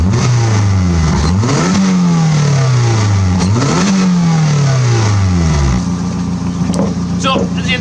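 A Daihatsu Hijet 1.3 16v engine with a budget custom exhaust, built for trackdays, revs up and falls back twice in loud close sweeps, then settles to a steady rumbling idle.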